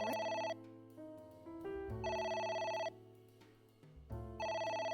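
A phone rings repeatedly in AI: The Somnium Files, the bell trilling in three bursts with short gaps, loud and clear over a steady low game-music background.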